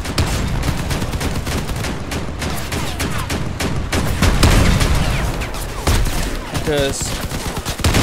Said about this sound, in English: I can't really go up against those machine guns.